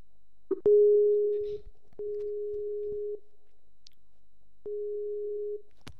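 A telephone ringback tone sounds while calling someone: three steady beeps, each about a second long, separated by silent gaps, clear and alone.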